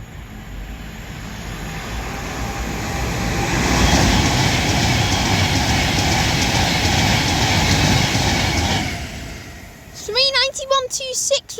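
A train on the West Coast Main Line rushes through Tamworth station, a broad roaring swell that builds, holds loud for several seconds, then fades, with a brief burst of higher tones near the end.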